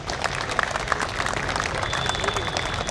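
Dense, steady clapping from the audience at the closing ceremony of an all-India inter-university soft tennis tournament fills the clip, with a voice speaking over the applause.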